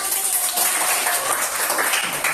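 A classroom group claps together in a dense, steady burst of applause lasting a couple of seconds, with faint voices mixed in.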